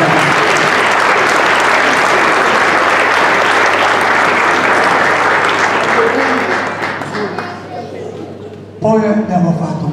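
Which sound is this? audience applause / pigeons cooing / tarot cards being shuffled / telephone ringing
audience applause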